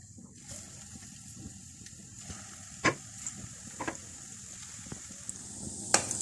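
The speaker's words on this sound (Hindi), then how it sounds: "इस गर्म ऑयल के अंदर ये कबाब डालते जाएंगे।" Carrot and almond kebabs shallow fry in hot oil in a frying pan, giving a soft, steady sizzle with scattered crackles and a couple of sharper clinks as pieces go in.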